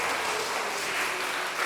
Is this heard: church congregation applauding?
yes